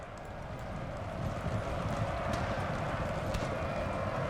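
Cavalry horses galloping in the video game Napoleon: Total War, a dense continuous rumble of hooves with scattered faint sharper cracks, steady and mid-distance throughout without talk.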